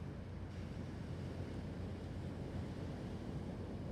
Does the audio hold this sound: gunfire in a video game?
no